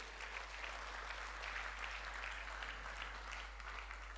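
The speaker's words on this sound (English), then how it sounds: "Can we give the models a round of applause?" Faint, even applause from an audience at an anniversary ceremony, honoring students' balsa wood models, with a steady hum beneath the clapping.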